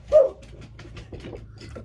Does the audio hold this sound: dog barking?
yes